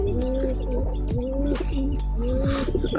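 Several domestic pigeons coo in repeated low, rolling calls close by, with faint chirps and rustling around a home loft.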